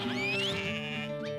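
A single sheep bleats close by in New Zealand high country, a wavering nasal call lasting over a second with no talk around it.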